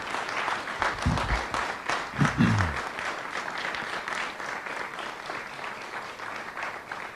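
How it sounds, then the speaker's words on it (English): A round of applause from an audience at a board of education meeting honouring an administrator of the year, a steady wash of many clapping hands lasting throughout, moderately loud, with a couple of brief voices early on. "We'll give you a round of applause"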